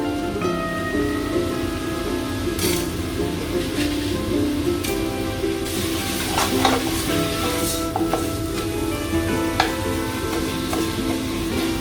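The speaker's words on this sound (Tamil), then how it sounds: "ஸோ மீட்டு கொட்டுறேன் நான்" Minced Al Kabeer meat sizzles and fries in a pan while being stirred with intermittent scraping clatters, a continuous close sizzle without speech.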